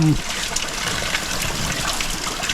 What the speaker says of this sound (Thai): ฝนกำลังตกแต่ว่าอากาศดีไปเลย